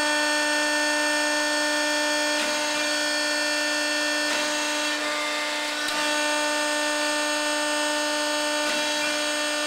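A Neff 25-ton two-post hydraulic press runs at slow speed under full load, a steady mechanical hum with strong tonal whine holding throughout, with a few brief shifts in pitch and no one talking.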